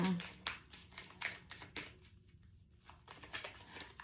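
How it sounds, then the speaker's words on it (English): A deck of tarot cards is shuffled in repeated quick riffles and soft slaps, close and quiet, under a person speaking. "See if they come out when I shuffle."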